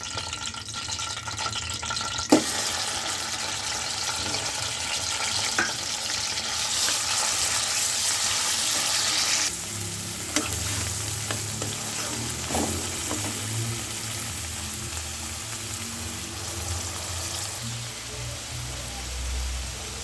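Cinnamon, cardamom and other whole spices sizzle in hot oil in a pan for an egg dish, a steady loud broadband hiss with brief crackles and stirring clinks, no talk.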